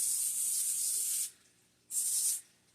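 Cooking spray hisses onto a foil-lined baking pan in two close bursts, the first long and the second shorter, with a quiet pause between.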